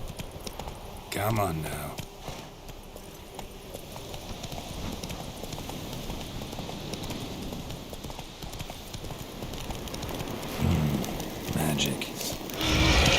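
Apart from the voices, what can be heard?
horse Roach galloping in video game The Witcher 3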